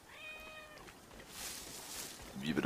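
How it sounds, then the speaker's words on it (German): A cat meows in Assassin's Creed Origins, a few short rising cries near the start, then fades into ambient night noise with a brief rustling burst at the end. "Hier ist eine Katze."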